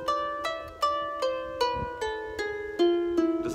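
A plucked harp plays a slow descending ancient Hebrew scale, about nine notes, each ringing and decaying before the next, clear and close with no talking.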